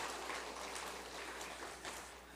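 A church congregation at a Sunday worship service applauding, giving a dense, even wash of clapping that fades slightly toward the end.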